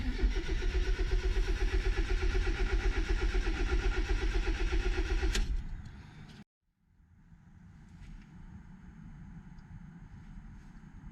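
A Mitsubishi Lancer GSR engine with a new fuel pump running loud and steady with rhythmic chugging, then cutting out abruptly into brief silence, followed by a quieter idle hum.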